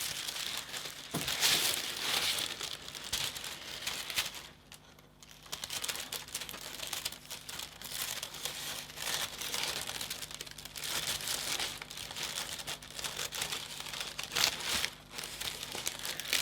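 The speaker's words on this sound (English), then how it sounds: "So now I just need to cut down the lines that I drew with pencil." Tissue paper crinkles and rustles steadily as it is cut by hand along pencil lines, close and fairly quiet, with no talking.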